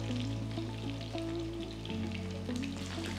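Squid rings frying in hot oil while being cooked to golden brown, a steady close sizzle with crackling bursts and a low background hum, no voices.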